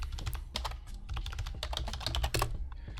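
Fingers tap out quick, irregular bursts of keystrokes on a computer keyboard, close and clear, with uneven clicks and short pauses and no voices.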